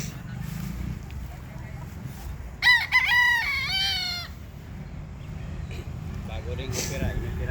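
A fighting rooster, a bull stag gamecock, crows once in the middle, a clear mid-distance call rising and holding before trailing off, over a steady low background rumble with people talking nearby.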